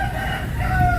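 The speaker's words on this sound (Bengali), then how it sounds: "মোরগ ডাকতেছে।" A rooster crows nearby in a village yard with wooden houses and banana trees, a single brief, loud, drawn-out call.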